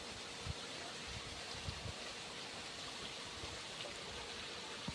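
Water running steadily in a home kitchen, a faint, constant broadband hiss with a few soft low knocks and no voices.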